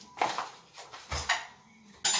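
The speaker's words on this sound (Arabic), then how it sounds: "هنايا غادي نخلط" Croissant dough ingredients are stirred in a bowl, producing a handful of quiet, close clinks and scrapes of a utensil against the bowl, spaced irregularly.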